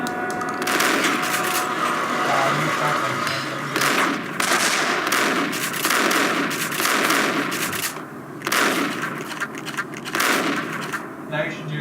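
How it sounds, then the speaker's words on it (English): Bursts of gunfire in the game Max Payne, repeated rapid shots in clusters across the stretch, loud and close, with a voice talking over them. "Furiously pushing the trigger."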